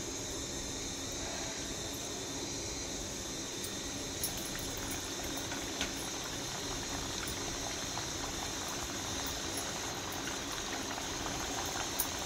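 Rolled wheat-flour kapnya dropped into hot oil, giving a dense, steady bubbling hiss of deep frying, close and even throughout, with a few faint clicks and no talk.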